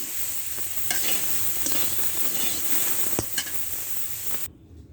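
Soy chunks, raw banana and potato with turmeric being stir-fried in a pan, with steady close sizzling and scraping stirs throughout, a sharp clink near the end before the frying suddenly cuts off.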